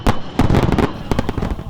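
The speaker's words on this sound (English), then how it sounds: "July would be the fireworks show and the Freedom Festival" Dense fireworks bursts at an outdoor July show tied to a Freedom Festival, loud booming and crackling reports in rapid clusters, with a short lull before another volley.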